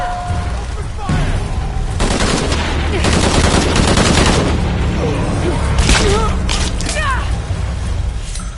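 Heavy automatic gunfire in Shadow of the Tomb Raider, loud repeated bursts and rattling volleys close by, with mechanical clanks and faint voices in the firefight.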